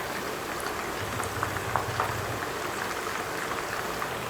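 Whole quail coated in masala fry in a pan as a continuous, even bubbling sizzle, close and moderately loud, with a few faint crackles and no talking.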